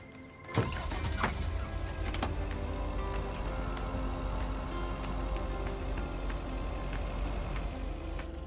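A car driving in the video game Lake, with a steady low engine hum and road rumble that carries on throughout, opening with a sharp thump as the drive begins.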